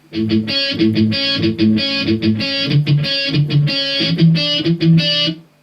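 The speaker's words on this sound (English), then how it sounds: "it's a mixture of palm muted notes and regular notes" An electric guitar plays a repeating riff, mixing chugging palm-muted notes with ringing open notes in a steady rhythm, loud and up close.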